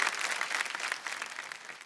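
Brief burst of audience applause for a singer at a grand finale, many hands clapping in a dense patter that tapers slightly toward the end, fairly near, with no voices over it.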